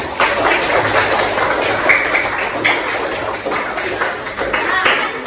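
Classroom children clapping together, a dense, continuous patter of many small hands filling the room at steady loudness, with a few voices mixed in.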